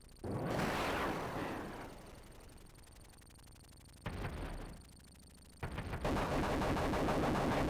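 Missiles fire in the Desert Strike video game as loud rapid bursts and blasts, with a sustained barrage followed by a brief lull, then renewed heavy fire.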